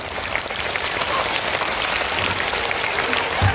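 Steady applause from a large group of schoolchildren fills the space, many hands clapping together continuously without a break.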